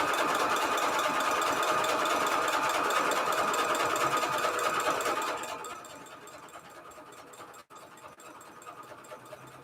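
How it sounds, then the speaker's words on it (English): Sewing machine stitching fabric ruffles, a loud continuous whirring run for about five seconds that then drops to a quieter hum with a brief stop near the end. "Let me just sew this right here."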